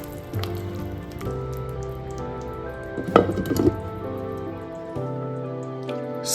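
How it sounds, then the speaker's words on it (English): Sri Lankan okra curry simmers in a covered pot over medium heat, a soft irregular bubbling and pattering with a faint tonal hum and a brief clattery burst partway through, quiet and without talk. "It's simmering now."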